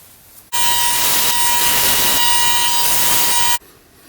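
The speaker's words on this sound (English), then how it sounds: "let's get it over to the sander" A powered sander smooths the edges of a turned walnut coffee scoop, a loud, steady whirring grind with a constant tone that starts abruptly, holds for about three seconds and cuts off cleanly, with quiet room noise on either side.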